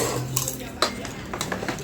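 Pots, pans and cutlery clatter and clink in a messy home kitchen, a few sharp metallic knocks standing out over low background noise with faint voices nearby.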